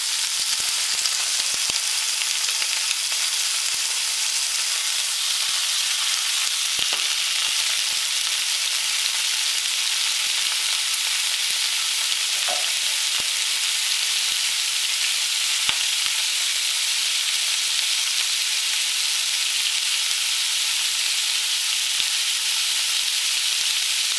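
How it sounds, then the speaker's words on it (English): A spicy egg seasoned with cayenne fries in a hot pan, giving a steady loud sizzle and sputter throughout with occasional sharper pops and crackles, no voices. "this is going to sputter like crazy"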